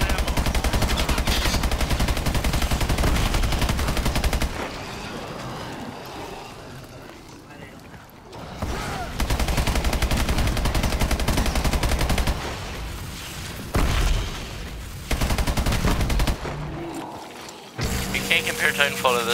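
Sustained automatic gunfire from the Call of Duty Exo Zombies co-op shooter, loud rapid bursts that cut off and resume in sections, with game sounds and players talking over it.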